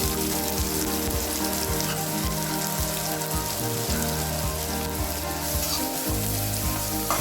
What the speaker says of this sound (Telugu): ఫ్రై అవుతున్నప్పుడు ఆనియన్స్ వేసి గార్లిక్ వేద్దామండి